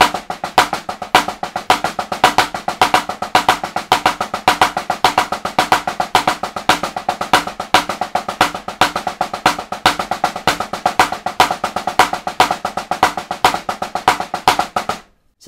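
Drum paradiddle warmup with shifting accents, played as a steady stream of fast sticking with accented strokes moving through a long four-count cycle, loud and continuous, stopping abruptly at the end.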